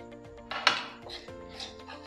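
Dried chilies go into a pan of roasted coconut with the stove switched off, giving a few soft scraping and clinking stirs of a spoon against metal, quiet and brief, over a low steady hum.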